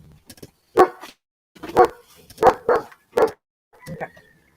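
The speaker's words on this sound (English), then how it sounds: "A little pit bull puppy." A pit bull puppy barking nearby, a series of about six sharp yaps in an uneven rhythm with short pauses, the last ones softer and whimpery.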